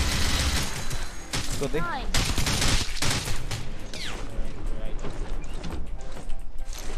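Shotgun blasts and gatling gun bursts in the video game Rules of Survival ring out as loud, repeated gunfire in uneven volleys, with people talking excitedly over the shooting.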